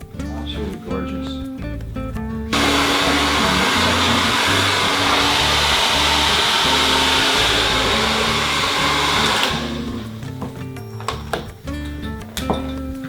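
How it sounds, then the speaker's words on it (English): A hair dryer blows steadily for about seven seconds during a blow-dry of hair, a loud continuous roar that starts abruptly and cuts off, with quieter handling sounds and faint talk before and after. "I finished my blow dry"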